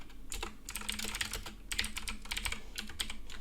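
Rapid, close clicking of keys on a computer keyboard as code is typed, a steady run of crisp taps with brief pauses and no talking.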